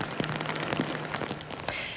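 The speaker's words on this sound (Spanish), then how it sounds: "En apenas dos horas ha llovido tanto que el alcantarillado no ha podido soportar la enorme cantidad de agua." Heavy rain pours down in Málaga, a dense steady patter of drops hitting hard surfaces close by, with scattered sharper splashes and no talk.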